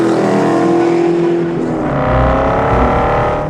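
A Shelby GT350 engine revs loud and close, a harsh rising roar that eases and swells again into deep throaty rumbling, with no talk over it.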